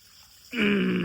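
Water gushes onto eggplant and vine plants in a vegetable patch, starting abruptly partway through and then running steady, loud and close with a faint tonal hum inside the rush.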